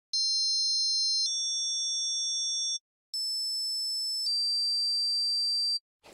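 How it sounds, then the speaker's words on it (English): A synthesizer plays a chord progression of pure, high sine-like tones. Two sustained chords with a slight change midway are separated by a short gap, each clean and steady against silence. "Try to listen to the harmonies in this chord progression."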